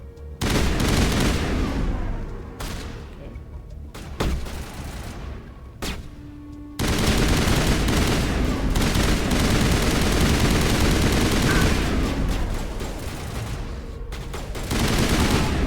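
Sustained rifle fire from the video game Mass Effect, with dense, loud bursts of repeated shots and booming impacts running almost continuously, pausing briefly near the seven-second mark before resuming.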